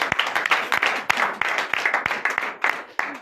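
A church congregation at a night prophetic service in Comè, Benin, claps and cheers in praise, with rhythmic hand claps beating over a bed of excited crowd noise and voices, close and lively.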